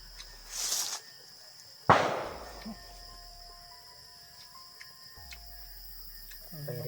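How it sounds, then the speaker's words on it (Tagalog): A single sharp gunshot-like crack nearby, loud and sudden, trailing off into quiet night ambience with crickets, preceded by a brief faint burst of noise. "Firing sila, nag-firing. Parang firing na sila."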